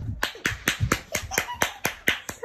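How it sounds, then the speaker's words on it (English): A single person claps hands in a steady rhythm, about ten crisp, close claps evenly spaced, with no talking over them. "Clap, clap, clap, clap, clap."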